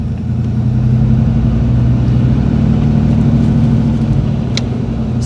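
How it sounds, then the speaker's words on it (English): A 1989 Ford Mustang 5.0 with a manual gearbox pulls away in first gear, its V8 engine note a steady, loud low rumble throughout with no talking. "I'm trying to ease off the clutch. There we go. All right, that's first gear."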